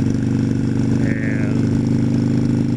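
A motorcycle engine running while warming up to operating temperature, a loud steady throbbing idle close by with no revving and no talk.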